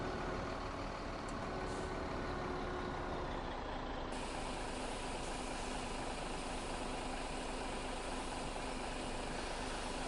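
A modded truck in Farming Simulator 17 idles with a steady, even engine drone, constant and moderately loud, with no talk over it.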